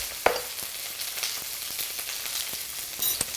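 Food spits and sizzles in a very hot pan while cooking jackfruit fajitas: a steady bright hiss with a sharp pop near the start, a few small crackles, and another burst of spitting at the end.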